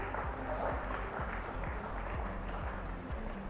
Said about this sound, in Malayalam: ഒരു വലിയ കയ്യടി കൊടുക്കുക